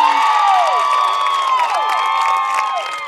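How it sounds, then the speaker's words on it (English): A home crowd at a Lamar high school football game against Bauxite cheers and celebrates a play, a loud sustained roar with shouts, whoops and rising and falling whistle-like tones throughout. "I guess you hear that Lamar crowd celebrating"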